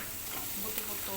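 Garlic and onion sautéing in a pan for pork rib adobo with sitaw, a short, steady, close sizzle and stir with no voices.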